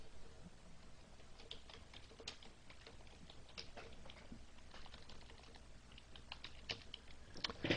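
Quiet, steady clicking of a computer keyboard as an email subject line is typed, a run of light keystrokes with a few brief pauses and no talking.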